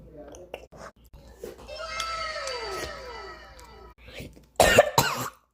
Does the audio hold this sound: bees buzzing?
no